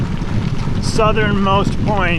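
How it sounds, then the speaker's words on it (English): Stiff, gusty wind roars and buffets the microphone during the Dirty Kanza 2018 gravel bike race, a steady low rumble with people talking over it. "It's been windy all day"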